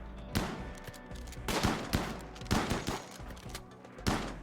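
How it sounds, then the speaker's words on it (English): RimWorld gunfire in repeated heavy bursts, several loud volleys spaced about a second apart over a low background. "here comes my destroy everything gunfire"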